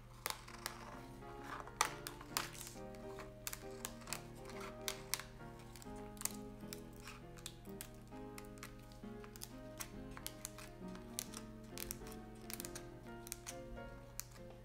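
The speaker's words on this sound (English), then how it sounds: "Cut out circle shapes from the dried rice paper wrappers" Scissors cutting circle shapes from dried rice paper wrappers, sharp faint crisp snips and clicks in an irregular run, with steady soft background music throughout.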